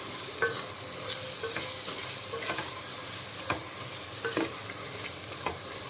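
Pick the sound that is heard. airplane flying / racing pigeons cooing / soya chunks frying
soya chunks frying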